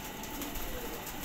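Pigeons from a breeder's loft cooing softly in a brief stretch, a low murmuring call under steady background noise.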